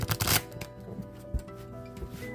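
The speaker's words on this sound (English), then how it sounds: "One more shuffle." A deck of tarot cards is shuffled by hand close up, with a quick burst of riffling at the start followed by scattered soft taps and shuffles against a quiet background.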